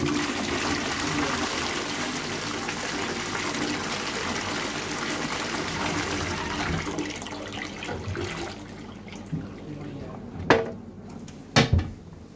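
A Dudley cistern flushes into a 1990s Armitage Shanks Contour rimless pan, giving a sustained rushing, trickling wash that fades out, followed by a few sharp knocks near the end.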